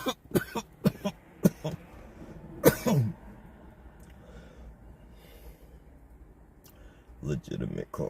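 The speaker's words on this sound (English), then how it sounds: "Legitimate cough." Several sharp coughs in quick succession, then a louder throaty cough and a quiet stretch before more coughing sounds at the end.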